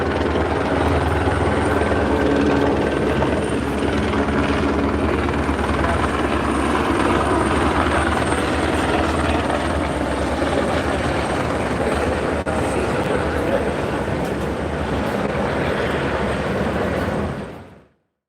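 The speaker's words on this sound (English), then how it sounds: "That's an ice chopper right there." An ICE helicopter flying over an anti-ICE protest in Los Angeles, with a loud, steady rotor roar throughout that cuts off abruptly at the end.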